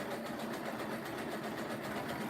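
A sewing machine stitches coiled rope into a basket with a steady, fast mechanical whirr that runs unbroken and close for a couple of seconds.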